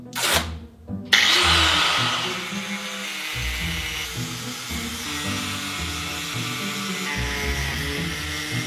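An angle grinder cuts into a motorcycle helmet shell, starting with a sharp burst and then a loud, sustained whining grind that wavers as the disc bites into the material, with no voices.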